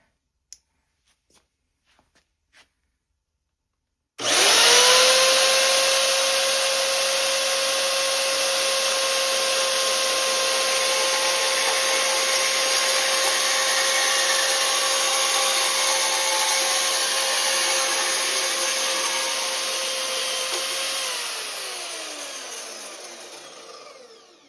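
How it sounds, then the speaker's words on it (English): A new bandsaw starts up after a few faint taps and then runs steadily for nearly twenty seconds while it cuts. Its loud, close whine holds a constant pitch, then falls away as the blade winds down, with no talking. "First time with the new bandsaw."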